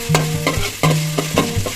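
Crushed ginger and garlic frying in hot coconut oil, stirred with repeated scraping strokes through a steady loud sizzle, no voices.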